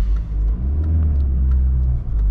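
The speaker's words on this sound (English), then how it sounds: "Nice pull from 3000. That's full throttle, guys." A Citroen XM 2.1 turbodiesel at full throttle gives a loud, close, deep engine drone that pulls steadily, with slight dips near the start and end.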